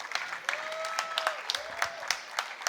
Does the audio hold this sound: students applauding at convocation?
yes